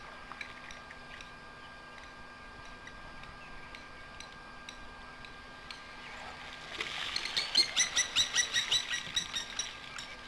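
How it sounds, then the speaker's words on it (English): Blacksmith lapwings calling at a waterhole, a burst of sharp repeated metallic clinking calls that starts partway through, moderately close, over steady background bird chatter and a faint hum. "That's the blacksmith lapwings making that call."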